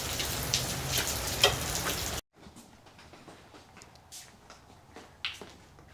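Heavy rain pours down as a dense, loud hiss, then abruptly drops to a quieter spatter of scattered drops and soft taps for the remaining seconds.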